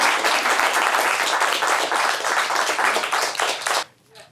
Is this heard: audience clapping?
yes